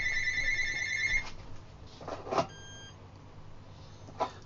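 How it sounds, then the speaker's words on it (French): A telephone rings at home with a bright electronic tone lasting about a second, then brief handling clicks and a short second tone, heard fairly close in a quiet room. "c'est le téléphone qui sonne"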